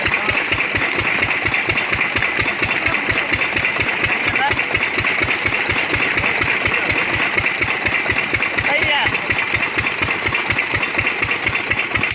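An old borewell pump engine in a farm field runs steadily with a fast, regular thumping rhythm, loud and close, idling without pause throughout.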